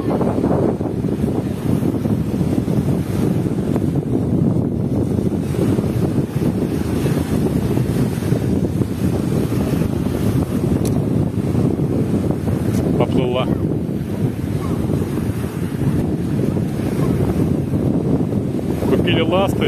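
Wind and sea waves at a beach in Turkey, a loud continuous roar of surf and wind buffeting the microphone throughout, with faint distant voices underneath.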